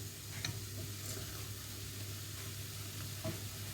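Salsa dip ingredients frying in a pan while being stirred to coat, a low steady sizzle with occasional soft spoon taps, quiet and close, with no talk.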